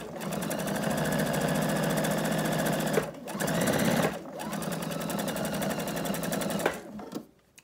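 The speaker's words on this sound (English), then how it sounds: "I'm following along with this edge of my presser foot." A sewing machine stitches denim strips for a raw-edge quilt block, humming loudly and continuously with two brief pauses before stopping near the end.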